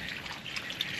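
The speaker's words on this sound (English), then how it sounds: "So all I need to do now is just give it a really good water." Water poured onto strawberry plants in a garden container, a steady close splashing gush with faint dripping throughout, alone without speech.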